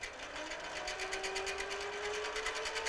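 A Harbor Freight 7x10 mini lathe, refitted with a PAC5556 motor controller, switches on and runs with a steady mechanical whir and a high whine that climbs slightly in pitch as the motor spins up.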